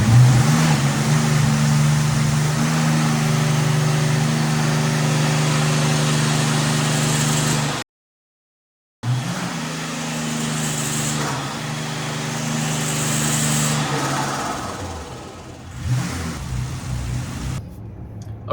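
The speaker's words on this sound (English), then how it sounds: "inherently this is just a very noisy engine. You probably heard it there in the video." A loud, turbocharged BMW E28 engine on a dyno drones at steady high revs for several seconds, cuts out briefly, then runs again with a rough, noisy roar that rises and falls.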